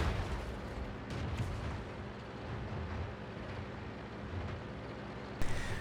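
Tank cannon fire in World of Tanks on the El Halluf map, faint distant gun reports rumbling over a constant low engine drone, with a sharper crack near the end.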